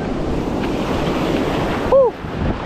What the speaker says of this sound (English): There's the ocean. We're gonna go swim in that. There's some gnarly waves today.